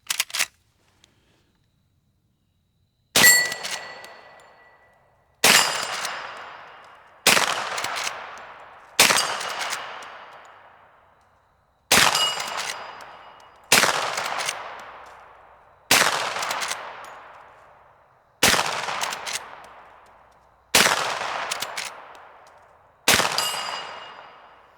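A Marlin 1894 rifle chambered in 10mm fires about eleven loud, sharp shots at steel targets, each crack followed by a ringing decay, spaced every two to three seconds at a steady, unhurried pace with no talking.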